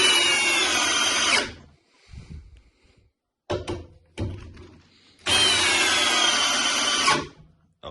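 Makita cordless drill, model DHP482 or DDF485, on speed setting 2 driving two 120 by 6 screws into wood: two loud, steady whirring runs of about a second and a half and two seconds, with brief knocks and handling noises between them.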